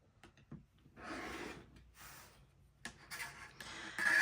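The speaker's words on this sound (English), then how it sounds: "I'm going to go ahead and cut 5-inch squares" Rotary cutter slicing quilting fabric into 5-inch squares on a grid mat for potholders, a few soft close rubbing swipes separated by short pauses, quiet with no talk.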